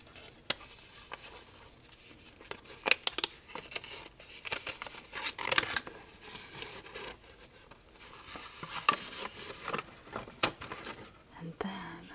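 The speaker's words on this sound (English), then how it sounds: "So I'm gonna finish unwrapping a couple more." Gym chalk blocks being unwrapped from their packaging, with soft crinkling, rubbing and papery rustles in irregular bursts, close and quiet, with a whispering voice at times.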